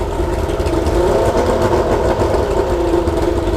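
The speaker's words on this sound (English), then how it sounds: "I'm barely giving it throttle." An outboard engine on a restored Bass Cat boat runs at low throttle, a loud, steady, close mid-pitched drone with a slight rise and fall in tone, heard alone.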